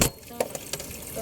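Water is poured out over soapy washing, a short, close splashing flow with a few small splashes.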